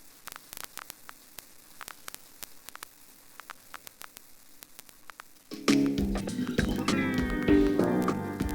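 Simulated gramophone crackle on a funky elevator jazz disco track: sparse clicks and pops over a low hum for about five seconds, then loud music enters with the crackle continuing beneath it.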